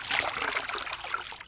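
Water being poured for a concrete mix, a steady splashing trickle lasting over a second, close and fairly loud, with no talk.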